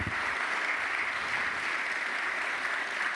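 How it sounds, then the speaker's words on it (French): Sustained applause from a seated conference audience at a Paris aviation and defence forum, steady dense clapping that fills the room from start to finish with no voices on top. "Et donc on peut l'applaudir absolument."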